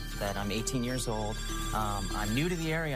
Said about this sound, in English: now the phone is ringing right now because of just this ad